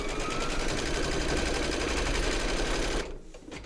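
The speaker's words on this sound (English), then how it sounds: "Pop your hoop into your machine and stitch round number 8 to secure it." An embroidery sewing machine stitches fabric held in a hoop, a fast, steady mechanical chatter that runs loud and even for about three seconds, then stops abruptly.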